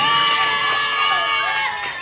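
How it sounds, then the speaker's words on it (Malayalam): A stage-show audience roars in response, with loud sustained cheering, whoops and children shouting close by, thick and constant throughout. "നല്ലൊരു കയ്യടി"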